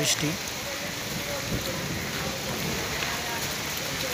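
Rain falls steadily, a broad continuous wash of drops pattering on surfaces nearby, even in level throughout with a faint brief bump near the start.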